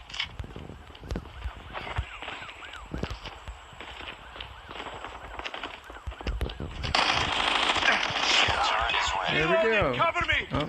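The IPD gun in Call of Duty Mobile fires a fast, loud, sustained automatic burst after light footsteps and scattered in-game sounds, with a player talking over the action.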